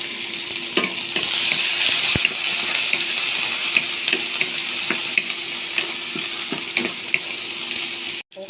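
Boiled string bean seeds sautéing in a pan, a steady close sizzle and hiss of frying with occasional scrapes and taps of stirring, continuous throughout before cutting off abruptly at the end.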